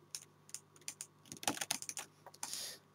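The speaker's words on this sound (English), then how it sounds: "So I'll again type up here." Typing on a computer keyboard at a desk, a quick run of clicky keystrokes in irregular bursts, close and fairly quiet, with a denser flurry of keys near the end.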